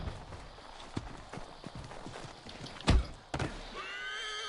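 Horse hooves clip-clop at a trot in Assassin's Creed III Remastered, with a few heavier thuds and a horse whinnying near the end.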